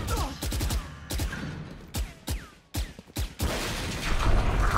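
Valorant gunfire comes in sharp, rapid bursts of shots, loud and close, separated by short pauses, with a steadier noisy wash near the end.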